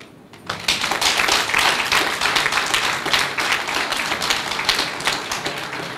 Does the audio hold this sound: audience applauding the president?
yes